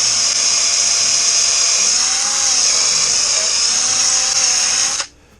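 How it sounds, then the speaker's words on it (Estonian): A power drill bores holes into a quail cage, running as one loud, steady, continuous whine for about five seconds before cutting off abruptly. "nüüd laseme augud sisse"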